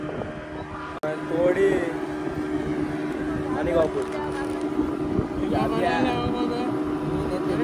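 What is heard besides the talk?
boat motor running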